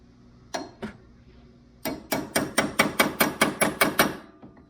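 Metal hammer blows on a punch driving at the inner tie rod of a 2019 Yamaha YXZ1000R SS SE side-by-side: two tentative taps, then a steady run of about ten sharp, evenly spaced, close strikes.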